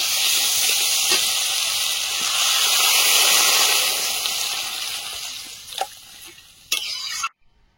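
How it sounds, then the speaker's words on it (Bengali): Water poured over frying vegetables in a pan on a clay stove raises a loud, broad steaming hiss that slowly fades, broken near the end by a few sharp clinks before stopping abruptly. "সবজিটা ভাজা হয়েছে, এবারে জল দিয়ে দেবো।"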